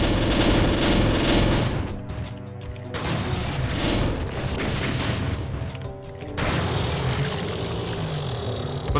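Chaingunner enemies firing chainguns in Final Doom, bursts of dense rapid gunfire with booming blasts, loud and continuous with a short lull near the middle, no talk.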